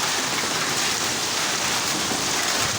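Steady rain pours down in a dense, even hiss of drops striking surfaces nearby, constant and fairly loud with no pauses.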